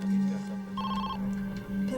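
A telephone rings in a call to the Pennsylvania State Police, a steady electronic tone with brief bursts of ringing over a constant low hum, heard alone at moderate loudness.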